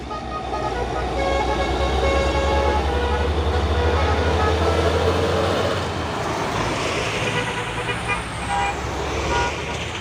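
A Hino truck climbs a hill in convoy with others, its low engine drone heavy and steady throughout while horn toots and rumbling traffic layer over it at close range.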